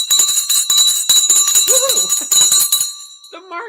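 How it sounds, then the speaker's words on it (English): Stock market closing bell ringing on a live market-close broadcast, a sustained bright metallic ring lasting about three seconds under overlapping chatter and voices, then fading as someone speaks at the end. "Guys, it is time for the bell."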